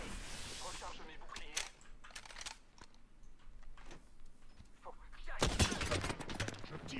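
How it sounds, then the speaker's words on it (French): Gunfire in the Apex Legends video game: scattered rapid shots crackle throughout, ending in a louder, denser burst. A player talks quietly over the shooting. "Je tire sur l'ennemi."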